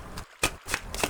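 Tarot cards are shuffled and drawn by hand, making a few quick riffling and slapping bursts close up.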